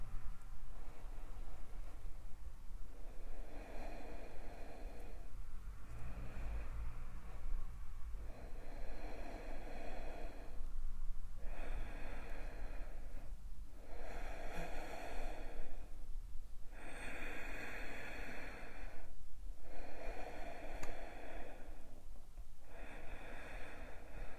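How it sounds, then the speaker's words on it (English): Slow, deep breathing during a yoga session, about ten long, even breath cycles with airy inhales and exhales, close and soft, without talk. "Deep breaths."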